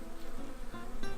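Honey bees buzz inside a beehive, a close, steady drone with overlapping wingbeat tones that swell briefly, no voices.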